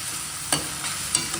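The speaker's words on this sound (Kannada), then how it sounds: "ಇದು ಚೆನ್ನಾಗಿ ಫ್ರೈ ಆಗಬೇಕು." Onions and tempering for poha fry in a pan, a soft sizzle broken by two or three brief scraping stirs of a spoon, close and alone.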